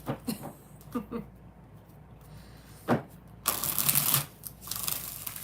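Rider-Waite tarot cards riffled and shuffled in short bursts, a few quick flutters early then a longer, louder crisp shuffle near the end, close by with no talk.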